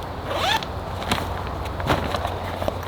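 A zipper runs along a backpack pocket on an ultralight summer backpacking pack, giving one quick rasping pull near the start, followed by faint handling noises and a few soft clicks against a low background hum.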